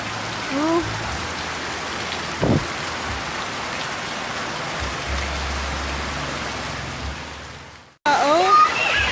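Heavy rain during the rainy season pours down steadily, a dense continuous roar filling the clip, with a few brief voices and a faint thump over it before a sudden cut near the end.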